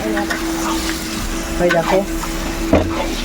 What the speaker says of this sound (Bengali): তিন কেজি চিকেন রান্না হচ্ছে